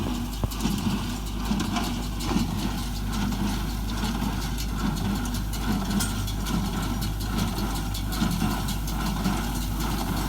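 A tractor-powered straw baler compresses straw into large bales for cattle feed, giving a steady, close engine drone with a repetitive clunking rhythm running throughout and no voices.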